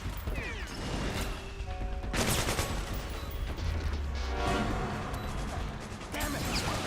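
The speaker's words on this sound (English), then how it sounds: "I don't see what everybody is shooting at." Gunfire and mechanical weapon clatter in the stealth action game Metal Gear Solid 4: Guns of the Patriots, a dense, continuous barrage of sharp shots and metallic clicks with a low rumble underneath, loud throughout.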